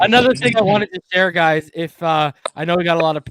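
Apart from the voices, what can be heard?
No everyday noise stands out behind the speech.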